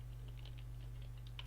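Quiet typing on a computer keyboard, soft rapid key clicks pattering irregularly over a steady low electrical hum, faint and close.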